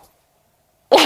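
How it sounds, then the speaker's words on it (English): A Shih Tzu puppy gives one short, sharp bark near the end after near silence, loud and close. "This puppy is a Shih Tzu."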